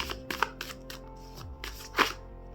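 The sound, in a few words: shuffling tarot cards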